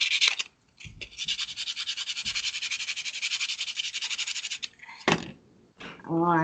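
Rapid back-and-forth scratchy rubbing, like sandpaper on wood, continues steadily for several seconds, then stops; a voice briefly speaks at the end.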